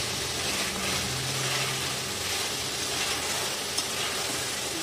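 Spice masala fries in oil for a Bengali-style black pomfret fish curry, giving a dense, steady sizzle that stays close and even throughout, alone with no voices.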